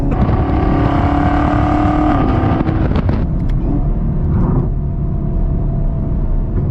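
Chevrolet Camaro ZL1 with the LT4 V8, exhaust valves open, roars loudly and steadily while driving through a long fast turn, the engine note shifting in pitch partway through, with no talking.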